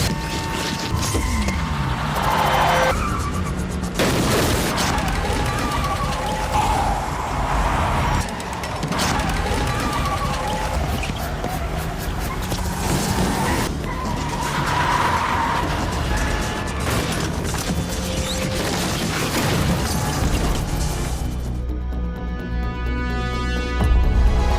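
A car speeding away out of control in a film scene, its engine roaring while the tires skid and squeal in bursts, with impacts and a final loud thud near the end.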